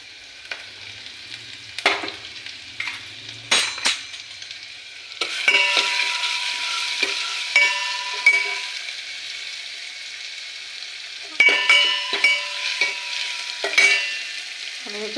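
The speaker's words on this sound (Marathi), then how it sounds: "आणि हे तेलामध्ये आलं आणि लसूण पेस्ट टाकायची." Ginger-garlic paste sizzles in hot oil for a veg soup while a spoon scrapes and stirs the pan in repeated bursts, the frying hiss swelling after each stir, close and with no voices.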